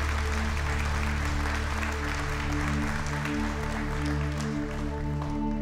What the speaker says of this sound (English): Let's give a loud hand clap for the Lord this morning.